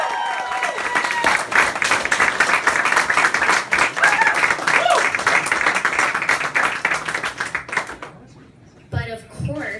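A crowd in a Toronto pub at an election-night victory speech breaks into loud, sustained applause with some cheering for most of the stretch, then it dies down and a voice starts speaking.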